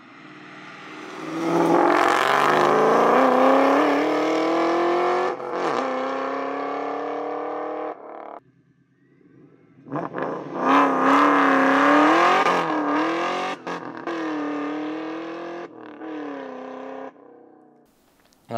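A supercharged SN95 Mustang Cobra exhaust revs up and holds a loud, throaty drone, drops off briefly, then revs again in rising and falling bursts.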